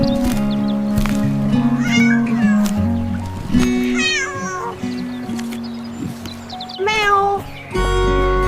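A cat meows several times in rising, wavering calls over a busy background of music and toy-like sounds, with some caterwaul-like stretches.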